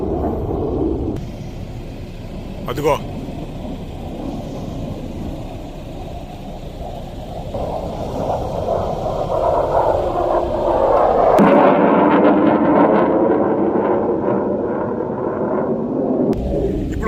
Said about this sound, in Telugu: థండర్ బర్డ్స్ స్టార్ట్ అయినాయి. F-16